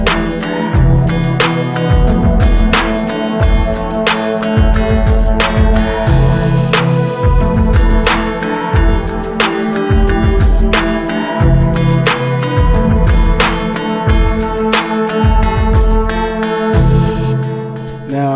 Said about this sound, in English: I actually used one of my own loops for drums, all drums